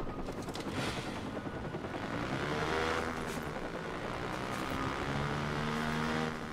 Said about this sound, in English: we gotta chase a helicopter